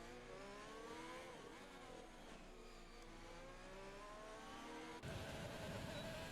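Engine note glitching in the F1 2020 racing game at the Brazilian Grand Prix, a steady high-pitched revving drone with wavering harmonics, holding loud and close before an abrupt shift in tone near the end.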